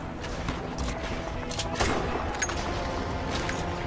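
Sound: gunfire in the video game Crysis 2

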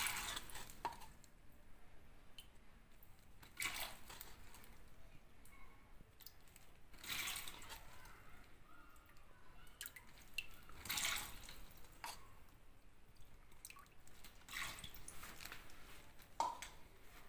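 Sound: water being added into a plastic container

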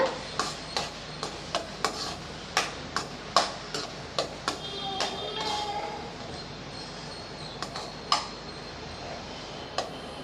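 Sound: stirring a mixture in a pan

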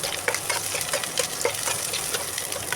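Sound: red amaranth greens added to hot pan, frying

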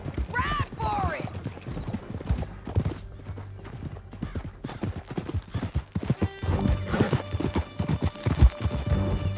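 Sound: horses galloping in Red Dead Redemption 2 video game

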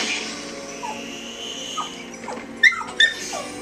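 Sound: puppy whimpering in Batman: Arkham Asylum video game

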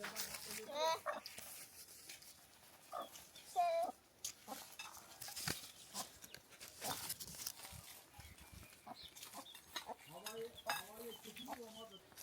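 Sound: chickens clucking in a village yard

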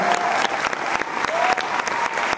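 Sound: audience applause at musical premiere

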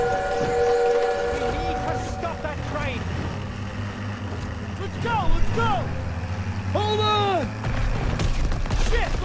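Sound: train in video game Call of Duty WWII

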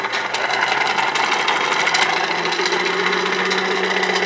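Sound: Hyper9 electric motor spinning on a boat outboard

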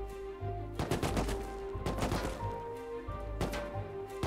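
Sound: AK rifle gunfire in the video game Rust

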